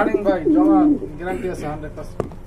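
Male pigeon cooing nearby in a loft of selected pigeons, a brief rolling coo at the start, then someone speaking over it.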